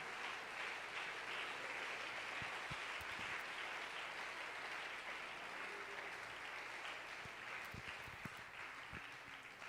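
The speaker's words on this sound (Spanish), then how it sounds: "Hay un aplauso para el Señor de gloria." A church congregation applauds steadily during a sermon, a dense, sustained wash of clapping heard alone for nearly ten seconds, fairly faint and distant.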